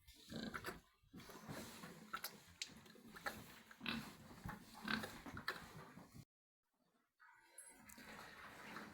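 A sow in heat grunts and snuffles close by in short, irregular bursts, with a brief silent pause near the end before the low grunting resumes.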